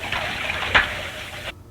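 Shower water runs in a 1938 film scene, a steady, moderate hiss of spray that cuts off abruptly near the end.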